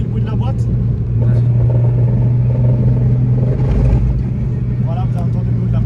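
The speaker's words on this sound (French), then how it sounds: "Vous voulez écouter le bruit de la boîte?" A Peugeot 106 Quick with a failing gearbox, its fifth gear dead, is driven in fourth. A loud, steady drivetrain drone and whine continues throughout, with faint voices at times.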